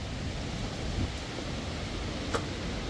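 Heavy rain and strong wind make a dense, steady roar near a park, with trees being battered and a loud, unbroken wash of noise throughout.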